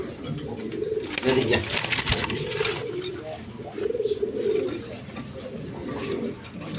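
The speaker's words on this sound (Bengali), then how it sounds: "এখানে এক পেয়ার গররা কবুতর আছে একদম বিগ সাইজের রেড কালার গররা" A pair of big red Gola pigeons coo in repeated low throaty bursts, close by, while someone talks over them and brief rustling breaks in.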